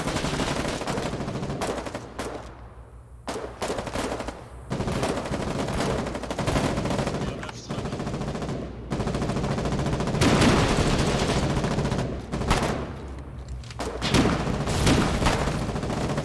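Gunfire in the war game Foxhole, dense bursts of rapid automatic fire and scattered single shots crackling through sixteen seconds, with dull booms and a constant battlefield rumble underneath.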